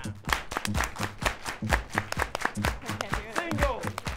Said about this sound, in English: Clap your hands with me right here